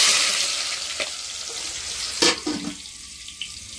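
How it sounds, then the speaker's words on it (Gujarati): Onions hit hot oil and sizzle loudly at first, fading to a softer crackle, with a couple of clattering utensil knocks midway. "તેલ આપણે ડુંગળીનો વઘાર કરવાનો છે"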